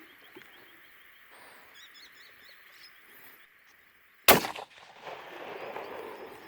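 A single loud, sharp crack from a Lithgow .223 rifle fired at a rutting buck at dusk. Quiet birdsong and frog calls come before it, and a rumbling echo trails after.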